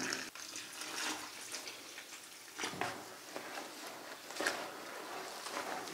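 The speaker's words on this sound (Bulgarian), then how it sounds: "Започваме да наливаме бавно вода и разбъркваме." Water poured slowly into a fishing groundbait mix while it is stirred, producing soft, close splashing and trickling with irregular wet sloshes, faint and continuous without speech.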